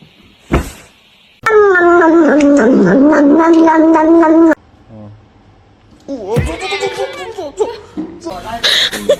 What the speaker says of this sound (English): This is my cat, Mimi.